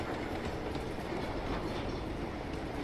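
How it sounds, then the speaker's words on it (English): A very long train rolls past continuously in the video game Uncharted 2: Among Thieves, a loud, dense rumble with rattling wheel clatter that holds steady throughout without voices. "It does go forever. This is a very long train."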